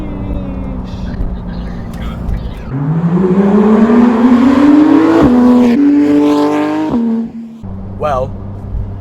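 A Porsche 911 GT3 RS engine revs hard from idle, its pitch climbing steadily through a loud sustained rip, then drops back with a brief blip near the end, close and dominant.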